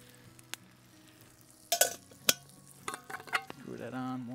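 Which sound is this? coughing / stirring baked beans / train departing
stirring baked beans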